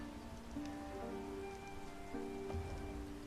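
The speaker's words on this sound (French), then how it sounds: "Ah, mais il pleut." Rain falls in the fantasy strategy video game For the King, a soft, steady patter on surfaces with light droplet ticks, quiet and continuous under faint tonal game sounds.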